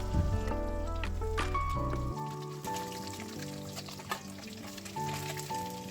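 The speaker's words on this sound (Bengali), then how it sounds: "মাছগুলো হালকাভাবে ভাজা হয়ে গেছে।" Pieces of katla fish fry lightly in oil for doi katla, a soft continuous sizzle with occasional small pops beneath steady tonal background music.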